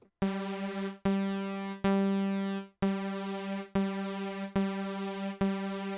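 Bright buzzy saw tones from the u-he Hive synthesizer, all oscillators restarting in phase, played as a repeated chord retriggering about seven times with sharp attacks, loud and close with no voices.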